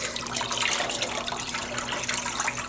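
Plain tap water pours steadily into a household sink, a loud, even, hissing splash that runs unbroken throughout with no voices.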